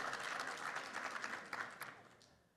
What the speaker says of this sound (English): Yes, you can applaud him.